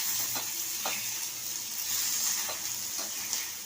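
Chopped onion and a finely cut small tomato sizzle steadily in a pan as a spoon stirs through them, the frying hiss constant with soft periodic scraping strokes close by.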